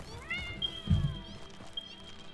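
A cat in the video game Satisfactory meows once, a short rising and falling cry that comes through clearly over faint background game sound.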